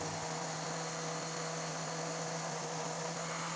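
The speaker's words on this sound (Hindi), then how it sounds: "अब ये प्याज डाल रही हूँ ग्राइंड करने के लिए।" A kitchen grinder runs steadily while grinding onion and tomato, a loud constant whirring hum that continues unchanged throughout.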